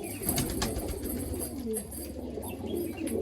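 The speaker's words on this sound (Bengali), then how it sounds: "নর পায়রা খুব সুন্দর একটা কোয়ালিটির পায়রা" A male Chotiyal Madrasi show pigeon coos in low, throaty rolling calls, fairly close, over a busy background of other birds and faint ambient noise.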